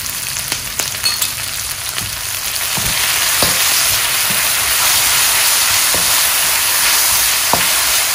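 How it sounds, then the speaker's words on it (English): Onion and garlic fry in a pan for a sweet and sour tilapia dish, a loud steady sizzle that swells after a few seconds, with faint scattered clicks of stirring and no talking. "Once the onion is brown or is soft enough, we can go ahead and add our garlic."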